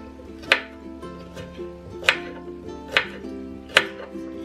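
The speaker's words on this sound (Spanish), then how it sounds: "le voy a poner unos ajos picados, miren. Nomás lo voy a picar tantito y para que agarre sabor" Garlic being chopped with a knife on a cutting board for pork ribs, five sharp, separate strikes spaced about a second apart against a quiet background hum.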